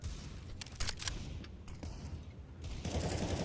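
RPK machine gun in Counter-Strike firing in short tapped bursts, sharp cracks spaced unevenly over a busy background of other game noise, with a louder wash near the end.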